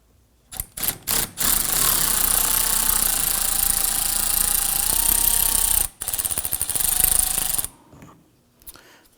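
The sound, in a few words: impact driver loosening a nut on Ford F-150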